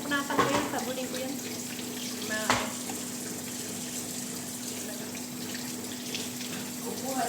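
Dishes are washed under a running kitchen tap, a steady hiss of water with clinks and scrapes of crockery, a sharp knock around the middle, while people talk nearby.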